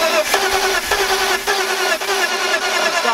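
A BMW E46 engine fitted with new spark plugs cranks loudly and close, the starter whirring in an even, rapid rhythm with short breaks, and it never catches into a clear run.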